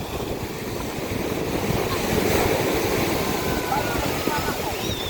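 Rough sea surf at a lagoon churns steadily with a broad, rushing roar, gusts of wind buffeting the microphone throughout.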